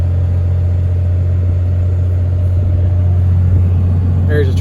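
A diesel truck engine with a K27 turbo idles steadily with a deep, even rumble and a faint turbo whistle riding on top, close and continuous.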